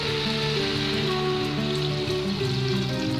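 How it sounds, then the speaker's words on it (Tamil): Water pours steadily into chicken curry simmering in a pan, a continuous close splashing and sizzling wash over a low hum, with no talking. "இப்போ இந்த ஸ்டேஜில் தேவையான அளவுக்கு தண்ணி ஊற்றிக்கலாம்."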